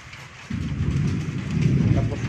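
Thunder from lightning during the Taal volcano eruption in the Philippines rolls in suddenly as a loud, deep, sustained rumble that swells and holds over the background.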